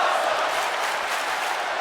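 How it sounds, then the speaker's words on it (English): Capacity arena crowd roaring in the WWE 2K26 video game during a Hell in a Cell match, a broad sustained wash of cheering and shouting with no commentary over it. "And listen to this capacity crowd."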